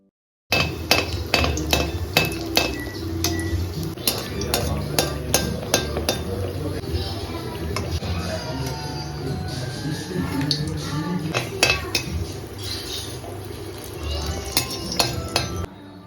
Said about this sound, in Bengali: এই পর্যায়ে এসে এখন আমি ব্যাটারে কিশমিশ মেশাচ্ছি।